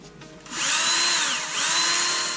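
A power drill revs up loudly and whines steadily, dipping briefly midway before spinning up again, close by with no talking.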